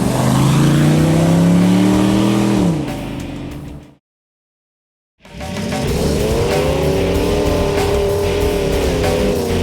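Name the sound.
Hemi V8 Jeep TJ engine revving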